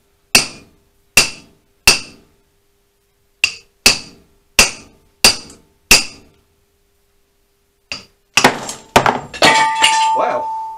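Hammer blows driving a head bearing into the steering head of a Honda CBR400 track bike, eight sharp metallic strikes at a steady pace, then a louder clattering burst with ringing, breaking metal tones at the end.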